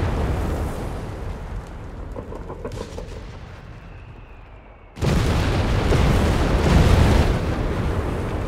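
A Greyhound armoured car blows up in the real-time strategy game Company of Heroes 3: a dull rumble of battle noise, then a sudden loud blast that leaves a sustained roar of fire and debris.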